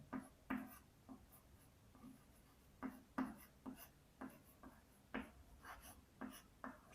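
Chalk or marker strokes on a board during a maths lecture on matrices, a series of quick tapping and scratching strokes in irregular bursts, faint and close.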